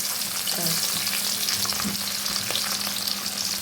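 Raw green banana pieces fry lightly in oil, giving a steady close sizzle with a faint low hum and a few soft stirring scrapes.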